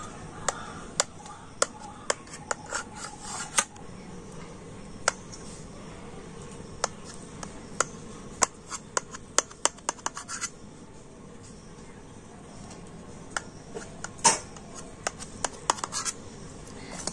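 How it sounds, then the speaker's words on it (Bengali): A knife cuts homemade paneer into pieces, giving sharp scratchy clicks and faint ticks at an uneven pace, some close together in bursts, over a soft steady room hiss. "আর এবার আমি একটা ছুরি দিয়ে পনিরটা পিস পিস করে কেটে নেব।"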